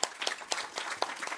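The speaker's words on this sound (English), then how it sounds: "So, thank you and applause once again" Audience applause at a Swedish panel discussion on globalisation, a brief burst of many hands clapping in a steady patter, moderately loud and filling the room.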